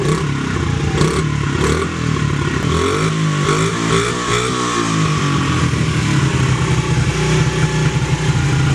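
A Honda CRF50F dirt bike that was burnt and is being restored idles cold, just after the choke is turned off. The engine runs a little fast with a steady, loud, close putter and some mechanical clatter.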